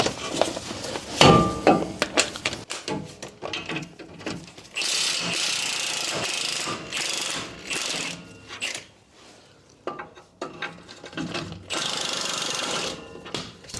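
Wrench work breaking loose U-bolt nuts on the rear axle of a Ford F150 during a lift block install: repeated close metallic ratcheting and clanking bursts, a sharp hit near the start, with steady grinding stretches between pauses.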